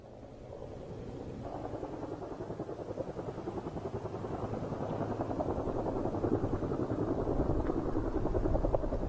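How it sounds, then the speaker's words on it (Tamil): Firefighting helicopters fly over a wildfire near residential areas, their rotor throb a steady rapid chop that grows gradually louder as they approach, distant at first with no voices. "தீயை அணைப்பதில் ஹெலிகாப்டர்களும் விமானங்களும் முனைப்புடன் செயல்படுத்தப்பட்டு வருகின்றன"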